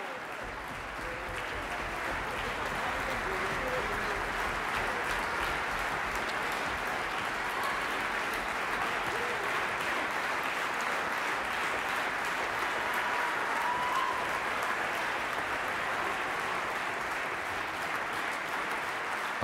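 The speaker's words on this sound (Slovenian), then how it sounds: "Aplavz še vedno traja" Sustained audience applause in a concert hall after a Mozart program by the RTV Slovenia Symphony Orchestra, a dense, steady wash of many hands clapping at even strength for the whole stretch.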